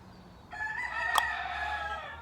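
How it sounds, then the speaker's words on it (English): A rooster crows once from a short distance, a drawn-out cock-a-doodle-doo lasting under two seconds, clear against quiet background noise. "for some reason the chickens are crowing"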